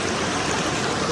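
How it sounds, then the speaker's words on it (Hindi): Stream water flowing beside a mountain bike route on a ride toward Kashmir, a steady broadband rushing and gurgling that stays loud and close throughout with no voices. "साथ में पानी बह रहा है"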